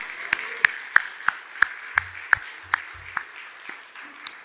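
A church congregation claps loudly in a steady unison beat, about three sharp claps per second, with a broad wash of scattered clapping underneath and faint low voices in the room.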